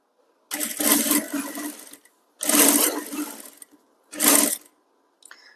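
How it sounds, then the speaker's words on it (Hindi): Three bursts of a sewing machine stitching a line beside thread piping on a designer blouse, each run lasting one to two seconds with short pauses between, close and fairly loud with no talking. "अगर हम सीधा कर देंगे तो पाइपिंग के ठीक बाजू में यहाँ पर सिलाई लगाएंगी।"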